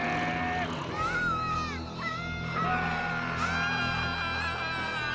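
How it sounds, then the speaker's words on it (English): An animated cartoon character lets out a long, loud scream in a Halloween-themed party scene. Several shrill yelling voices rise and fall over a busy background for about five seconds. "this one, she screams and runs"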